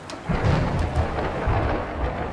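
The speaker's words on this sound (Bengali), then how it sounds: "দূরে কোথাও বাজ পড়ল প্রচণ্ড জোরে।" Loud, close thunder crashes through a windy rainstorm over a muddy village road, with a heavy low rumble that swells and rolls on for a couple of seconds alongside the hiss of rain.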